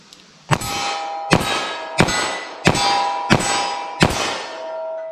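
Six sharp, evenly spaced gunshots from a 4-inch 10mm Auto revolver loaded with Federal Power-Shok ammunition, each loud report trailing off in a brief metallic ring.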